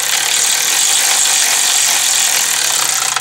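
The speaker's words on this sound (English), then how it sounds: "I'm just gonna tighten these with my electric gun" An electric impact gun tightens the clutch pressure plate bolts on a 2003 GMC Sonoma / S10, giving one continuous, loud, rapid ratcheting hammer held close up for several seconds, with no talk.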